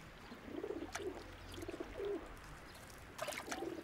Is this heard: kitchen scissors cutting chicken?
no